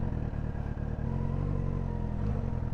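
Motorcycle riding on beach sand, a close steady engine rumble with a low chugging pulse and faint clatter, fairly loud and continuous, no talk.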